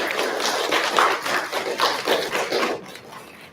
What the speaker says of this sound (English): Let's give all of our terrific kids a big round of applause.